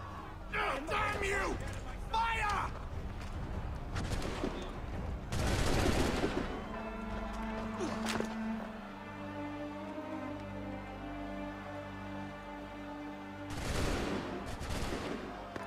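Musket volleys crack out in Assassin's Creed 3, loud broadband bursts arriving in a few clustered salvos, one early, one mid-clip and another near the end, over a steady bed of background game noise, music tones and voices.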